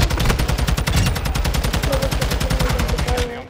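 Rapid automatic gunfire rattles through a Call of Duty MWII shootout, a loud, close, steady burst of many evenly spaced shots lasting several seconds before trailing off at the end.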